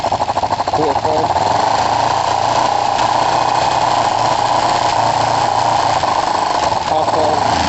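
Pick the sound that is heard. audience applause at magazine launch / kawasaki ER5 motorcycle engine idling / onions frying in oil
kawasaki ER5 motorcycle engine idling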